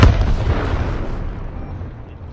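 A HIMARS rocket artillery launcher fires with a heavy booming blast, then a long rumbling roar that slowly fades over a couple of seconds, loud and alone.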